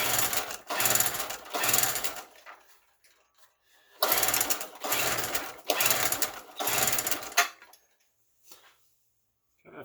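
A Chicago generator engine being cranked over in repeated attempts to start makes rapid mechanical chugging in two clusters of short bursts separated by silence, without catching and running.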